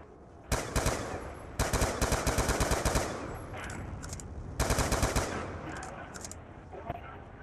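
Rapid automatic gunfire in the zombies video game Die Rise comes in loud, dense bursts separated by short pauses, with sparser single shots between them.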